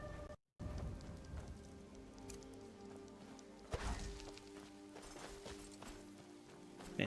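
Steady rain falls at night in the video game Skyrim, a continuous soft hiss of drops over a low ambient bed, with one brief dull thud partway through.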